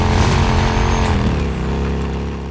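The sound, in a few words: motorcycle engine growl in video game Days Gone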